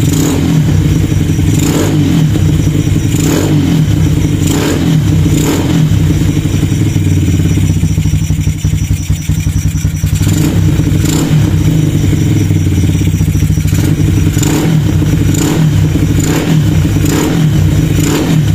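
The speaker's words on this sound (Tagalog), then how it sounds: "200cc ang motor, tapos size 28 yung carburetor." A 200cc motorcycle engine fitted with a 28mm KRY RS8 round-slide racing carburettor, swapped from a Mio, revs hard in repeated loud blips over a steady idle, close and alone.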